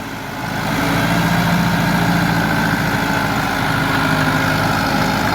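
An ATS 290 blue tractor hitched to a rotavator runs at a steady, loud throb close by, its low engine rumble building slightly at first and then holding even throughout.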